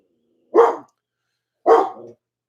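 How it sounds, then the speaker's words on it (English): A dog at home barks twice, close and loud, with about a second of quiet between the two sharp woofs. "There, Gilbert, you don't have to bark anymore."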